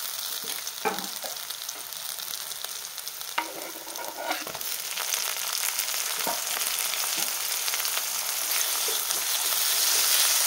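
Chopped tomatoes sizzle in a hot pan of tempering for spiced leftover rice, under a continuous loud frying hiss. Occasional spoon scrapes and stirring clatter come through, and the sizzle slowly grows stronger.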